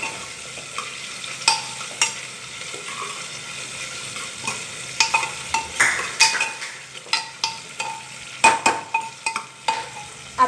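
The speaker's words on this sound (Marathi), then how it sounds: "आपल्याला कांदा चांगला थोडासा गुलाबी करून घ्यायचा." Onion sizzles steadily in hot oil in a pan for masala rice, a soft frying hiss beneath repeated metallic clinks and scrapes of a spoon stirring, the clinks growing busier toward the end.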